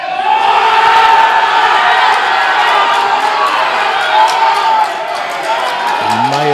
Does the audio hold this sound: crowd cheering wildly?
yes